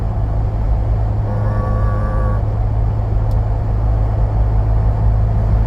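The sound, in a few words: 2024 Ford Bronco exhaust through AFE muffler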